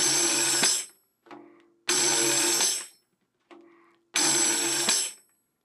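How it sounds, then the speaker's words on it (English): A tambourine plays three bright finger-roll jingle rolls, each cut off by a sharp palm strike on the head, with softer rattling hits in between, repeating in a steady pattern without talk. "Now I can end it with a palm strike on the head."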